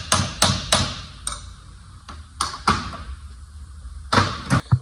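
Sharp metallic hammer blows on a punch set against a U-joint on a Nissan D21 truck, several strikes in uneven pairs and singles, close and loud with ringing tails.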